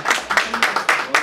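Sparse, rhythmic hand claps from a small audience at a press conference for a chic and glamour style night event, about five distinct claps spaced evenly in a short, fairly close burst.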